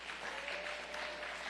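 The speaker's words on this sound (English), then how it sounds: "Yeah, clap it up." Crowd applause at a political speech on a Senate run, continuous clapping from a sizeable audience, heard at a distance and fairly quiet.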